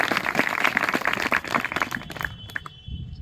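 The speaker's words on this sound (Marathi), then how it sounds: "प्रथमतः यांच्यासाठी तुम्ही सर्वांनी एकदा टाळ्या वाजवायत ही माझी विनंती आहे।" Students at a Class 10 farewell function at a coaching class applaud their teachers, a dense patter of many hands clapping steadily before thinning out and fading toward the end.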